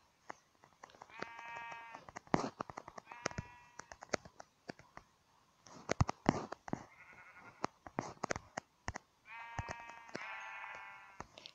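Sheep in a video game bleat several times in short, wavering calls, scattered among frequent sharp clicks that sound like keyboard and mouse presses.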